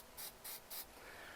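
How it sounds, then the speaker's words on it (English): A spray can of glue activator gives three short, even hisses in quick succession outdoors on a windy day, held close to the end of a cabinet board, followed by faint wind noise. "I'm going to take the activator, shake it up real well, and spray it on the end"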